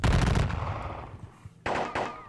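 Musket volley fire in a Seven Years War strategy video game, a loud dense burst of gunfire that fades, then a second sharp crackling volley near the end.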